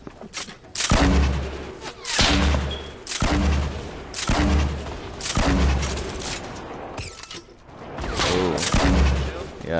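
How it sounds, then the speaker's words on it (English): A pumpkin launcher in a video game fires a series of heavy booming blasts, about eight loud thumping shots at roughly one-second intervals, mixed with scattered gunfire and game noise. "That pumpkin launcher."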